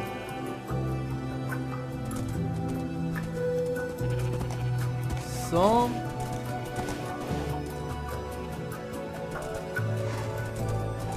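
Horse hooves clip-clop in a Minecraft game, a neigh or whinny rising briefly midway over steady game music, with a single short spoken word near the start.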